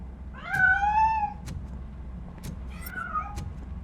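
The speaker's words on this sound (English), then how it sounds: "That cat must be hiding inside." A cat meows twice as it escapes, two clear drawn-out cries about two seconds apart over faint background rumble and a few soft knocks.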